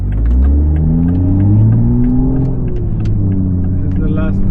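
Engine of a Toyota Supra MK5 on a test drive after a spark plug change, a loud close rumble from inside the car with engine tone rising and easing, and a little talk over it.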